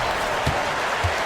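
Arena crowd in a basketball video game roaring and applauding after a dunk, a steady broadband wash of cheering at even loudness for a moment.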